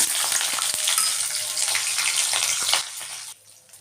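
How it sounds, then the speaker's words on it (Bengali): Tempering spices hitting very hot oil for a water spinach stir-fry, a steady loud crackling sizzle that drops away sharply near the end. "এখন তেলটা বেশ গরম হয়ে গেছে কারণ আমি ফোড়নটা দিয়ে দেবো"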